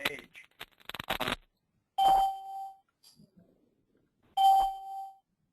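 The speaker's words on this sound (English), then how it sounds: "I heard 3 chimes." Electronic chimes sound during a call: clear, ringing tones repeating a couple of seconds apart, each decaying quickly, after a stretch of talk at the start.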